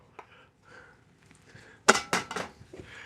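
A spoon mixes cheese, bratwurst and onion together in a bowl, making quiet scuffs followed by a burst of clinking and scraping against the bowl's sides near the end.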